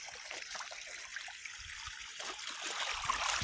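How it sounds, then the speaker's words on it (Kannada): Soft trickling and splashing of water as clothes are washed by hand out in a farm field, faint, uneven dribbles and drips building slightly toward the end, with no voices. "ಇನ್ನೂ ಒಂದು ಬಟ್ಟೆ ಇದೆ, ಅದನ್ನು ಒಗೆಯೋದು ನಿಮಗೆ ತೋರಿಸ್ತೀನಿ ಫ್ರೆಂಡ್ಸ್"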